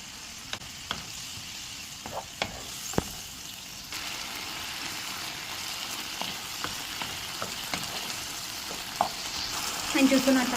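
Okra goes into a frying pan of bubbling water, producing a soft, continuous sizzle with scattered light pops and crackles throughout.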